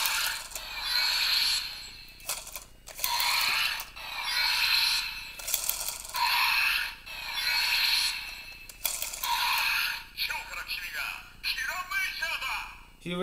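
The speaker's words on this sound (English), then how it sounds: "when you spin the tire, you get a new sound" A Kiramei Changer toy's plastic tire spun repeatedly, giving bursts of rapid ratcheting clicks that start and stop several times, with a few short spoken words mixed in.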